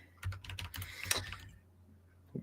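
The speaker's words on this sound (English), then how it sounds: "What are you typing?" Rapid clicking on a computer keyboard, a close burst of keystrokes that stops after about a second and a half, leaving quiet room tone with one faint later tap.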